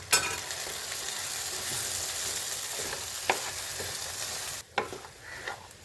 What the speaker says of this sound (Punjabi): ਜਿਹੜਾ ਚਨੇ ਕੁੱਟ ਕੇ ਪਾਏ ਸੀ ਉਹ ਵੀ ਵਧੀਆ ਵਿੱਚ ਭੁੱਜ ਗਏ ਆ